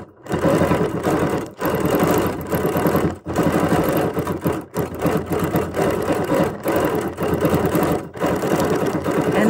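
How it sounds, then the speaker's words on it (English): A sewing machine free-motion quilting a reversible table runner, running in long continuous bursts of rapid stitching broken by a few brief stops, loud and close. "I'm gonna hop on over and do some quilting in here"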